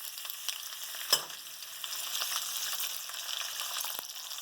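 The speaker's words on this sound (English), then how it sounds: "I put that cooking oil in my wok, put it on quite a high heat so it'll heat up quite fast." Cut green beans fry in hot oil in a wok over high heat, giving a soft, steady sizzle with a sharper pop or stir clatter near the start and another later.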